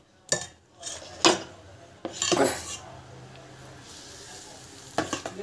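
A dosa cooking on a pan at home, sizzling and frying under a series of sharp metallic clanks and scrapes from a utensil against the pan, all close by.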